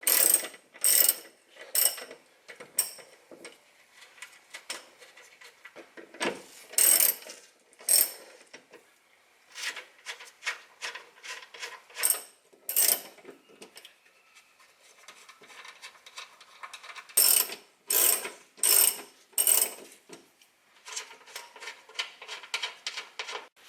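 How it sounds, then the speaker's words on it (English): Ratchet wrench loosening chassis bolts on a 2013 Hyundai Elantra GT, heard as loud, close bursts of rapid clicking that start and stop repeatedly with short pauses between runs. "you'll want to locate those two bolts on either side and remove both of them."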